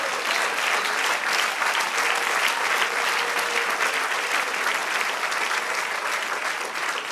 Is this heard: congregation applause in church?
yes